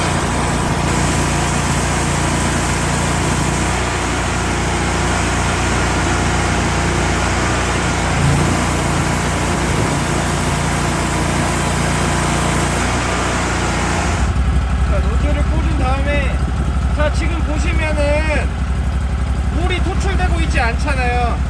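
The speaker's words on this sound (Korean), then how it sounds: "시동 걸고 물 한번 토출시켜 볼게요." The 35 hp engine of a Cleantop high-pressure washer starts and runs with a steady engine drone that changes character partway through, as a voice talks over it.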